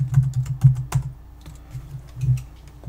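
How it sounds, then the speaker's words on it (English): Typing on a computer keyboard at a desk, a run of irregular close key clicks and taps with short pauses between bursts, no voices. "Once you have your area, simply begin typing."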